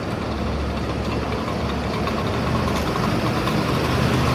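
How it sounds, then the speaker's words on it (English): A scooter with a busted engine runs on a Manhattan street at rush hour, a rough, loud, low rumbling drone with knocking irregularities, steady and close amid city noise. "That scooter sounds busted."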